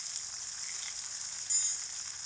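Soybean curry spices, with salt, turmeric and red chilli powder, sizzle steadily in a pan, a continuous close frying hiss with a brief stir partway through.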